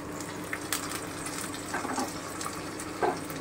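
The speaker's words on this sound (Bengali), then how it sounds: "পেঁয়াজ বাটাটা দিয়ে দিচ্ছি" Onion paste frying in oil on medium heat for chicken kosha, a continuous hissing sizzle with a few brief crackles and pops, fairly close and with no voices.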